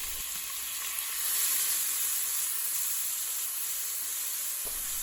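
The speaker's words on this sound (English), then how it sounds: "Once hot, add the onion and pepper and cook on high for around 5 minutes until the onions become golden." Chopped onion and pepper frying in hot oil on high heat, a steady close sizzle and hiss with a brief stir near the end.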